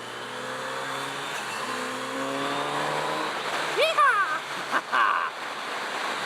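A 2018 Kawasaki Z900RS motorcycle in sixth gear on a freeway drones steadily under loud wind rush, and a voice breaks in near the end.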